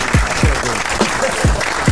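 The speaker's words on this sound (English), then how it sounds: "Okay, I got the applause" A radio studio applause sound effect plays as a steady, fairly loud burst of clapping lasting a couple of seconds, with a voice briefly heard over it.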